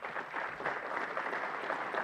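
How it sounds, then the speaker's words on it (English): Conference audience applauding at an opening session, a short burst of dense, steady clapping heard from within the room, faint and with no talk over it. "So give yourself a round of applause here."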